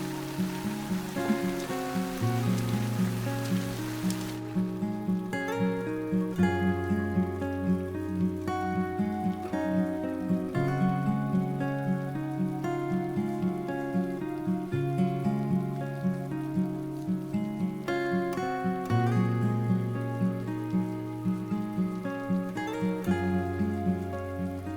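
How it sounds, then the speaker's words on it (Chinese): Steady rain falls outside during a scene in a historical costume drama, a continuous soft patter running under sustained music with no voices. "外面下雨了"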